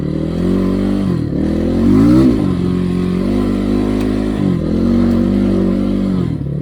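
A Kovi Max 300 enduro motorcycle revs on a muddy field, a loud, close engine snarl that rises and falls in repeated throttle bursts with brief dips between them, alone without talk.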